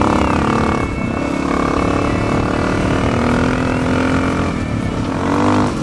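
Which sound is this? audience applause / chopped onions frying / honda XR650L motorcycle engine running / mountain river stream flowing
honda XR650L motorcycle engine running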